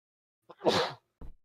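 A single sharp sneeze erupts near the microphone during a live baseball podcast recording, followed by a short, softer breathy sound after a brief pause.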